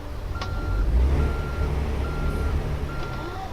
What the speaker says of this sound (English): I was driving a truck, indeed.